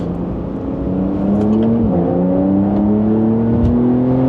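A Porsche 992 GTS pulls hard out of a slip road, its engine note climbing steadily through the revs with a brief dip at a gear change, loud and close from inside the car, with no talking.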